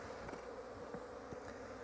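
Bees buzzing around an open honey beehive during a second harvest, a steady insect drone with faint scattered knocks, no voices.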